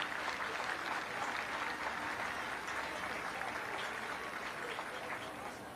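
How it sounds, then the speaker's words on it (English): A crowd at a football game applauds an injured player as he is carried off on a stretcher, a steady, sustained wash of clapping heard from a distance that fades slightly toward the end. "Fans give a round of applause to him."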